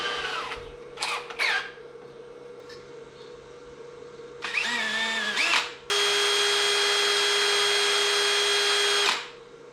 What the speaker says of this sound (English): Okay, so I'm going to drill these,